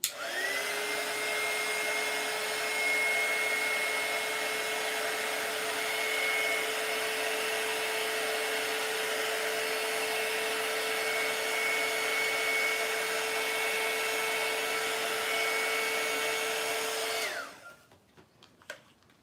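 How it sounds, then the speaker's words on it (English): A blow dryer blows hot air over wet paint on a Christmas card, a steady loud whirring hum that runs unbroken for about seventeen seconds, then switches off and fades quickly into quiet. "I'm gonna use the blow dryer just because we don't have that much time."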